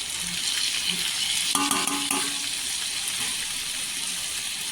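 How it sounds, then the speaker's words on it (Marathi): Red chilli powder, garam masala, chaat masala, coriander and turmeric sautéed in oil with brinjal: a steady, dense sizzle throughout, with a few brief scraping stirs in the middle. "इथे पूर्णपणे मसाले सगळे परतून घ्यायचं तेलावर"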